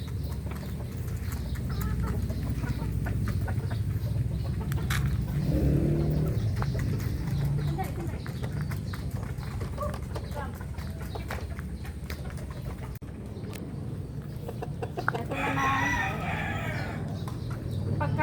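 Backyard chickens kept as a hobby cluck repeatedly at close range, with scattered calls and a couple of louder squawks over a steady low background.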